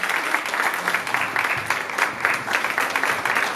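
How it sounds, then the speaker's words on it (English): An audience claps steadily at the close of a university candidate forum, a dense, even wash of applause from a sizeable crowd throughout. "I want to give a big applause for Eden Yardie sitting over here"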